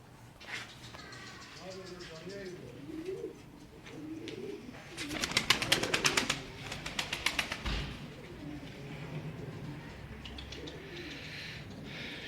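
Pigeons coo in rolling, throaty phrases close by, with a burst of rapid wing flapping in the middle, while someone talks over them.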